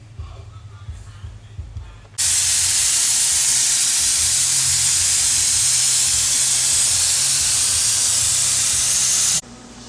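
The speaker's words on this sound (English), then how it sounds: "I'm going to clean that off and re-undercoat this" Aerosol undercoat sprayed onto the floor pan of a 1974 Nova, a loud continuous hiss lasting about seven seconds, starting and stopping abruptly, with quieter shop background before and after.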